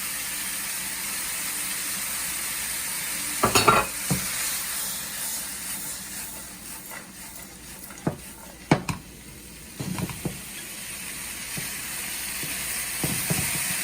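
Cabbage stir-fries in a hot pan for Nepali-style mie goreng, a steady soft sizzle broken by a few sharp scrapes and clanks of the spatula against the pan, close by and without talk.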